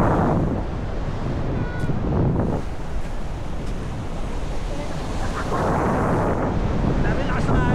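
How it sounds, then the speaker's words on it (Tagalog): Strong ocean waves crash and surge on a beach while gusty wind buffets the microphone, with louder swells rolling in at the start and again near the end. "Dami lakas ng alon."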